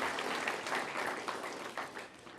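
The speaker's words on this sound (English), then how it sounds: "Let's give them a round of applause for that" Conference audience applauding, a steady patter of many hands clapping at moderate distance for a couple of seconds, fading slightly toward the end.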